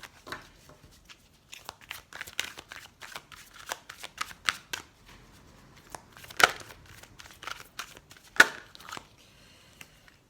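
Oracle cards of the angels of love being shuffled by hand, a steady run of soft papery riffles and slaps, with two sharper card snaps near the middle and end, quiet and close with no talking.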